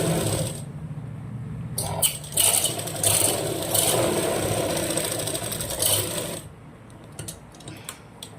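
A sewing machine stitches a blouse, running in a steady mechanical whir with repeated clacking bursts, close and fairly loud, before slowing and stopping toward the end.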